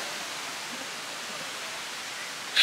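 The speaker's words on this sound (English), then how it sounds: "we are at Rutledge Falls. Nice little waterfall." Rutledge Falls, a small waterfall on a hiking trail, heard as a steady, broad rush of falling water, moderately loud and unchanging, with a brief louder bump at the very end.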